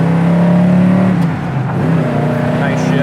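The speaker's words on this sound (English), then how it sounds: "That exhaust sounds good" A 1973 Camaro Z28's exhaust as the car accelerates, a loud, close, rising engine drone that dips briefly around a shift, then climbs again, heard from inside the car.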